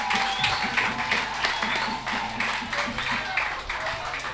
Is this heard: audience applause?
yes